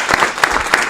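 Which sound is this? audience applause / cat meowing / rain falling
audience applause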